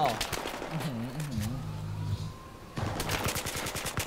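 Gunfire in the video game Battlefield 3: bursts of automatic fire at the start and again near the end, with a quieter stretch between, loud and close, with a voice talking over part of it.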